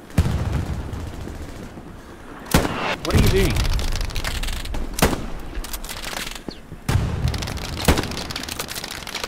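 Gunfire and explosions in the World War II shooter game Hell Let Loose: several sharp, loud shots and booms at irregular intervals over a steady battlefield rumble, with a player's voice speaking briefly between them.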